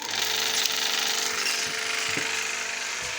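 An old film projector starting up for a home screening, a steady mechanical whir with a rapid clattering rhythm running loudly and close throughout, with no voices.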